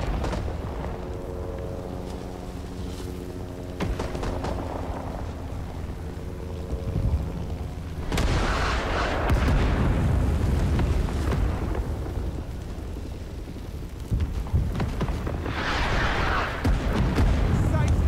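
Artillery shells land in a Rising Storm 2 match on the An Lao Valley map, heavy booming blasts rolling in at intervals after a stretch of low engine-like rumble and muffled voice chatter.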